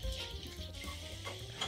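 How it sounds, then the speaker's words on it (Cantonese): Slices of bread toast in a dry pan for French onion soup croutons, giving a soft, quiet sizzle with faint scraping and stirring from close by, steady throughout. "然後咧我哋咧白鑊烤一烤啲麵包"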